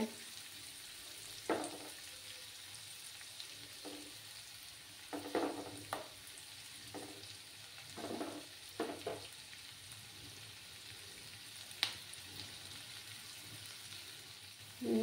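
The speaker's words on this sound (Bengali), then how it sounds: "একটু সময় নিয়ে পেঁয়াজগুলোকে ভাজতে হবে।" Onions frying slowly in a pan for a spicy dhaba-style potato masala gravy, a steady low sizzle broken by intermittent stirring scrapes and clatters, close and moderately quiet with no talking.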